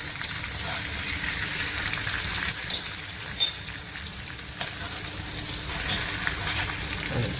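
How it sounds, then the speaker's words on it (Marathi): Bagada fish fry in oil in an iron pan, producing a steady close sizzle with small crackles and an occasional soft clink as pieces are turned. "हे बघा, छानपैकी एका बाजूने तळले गेले."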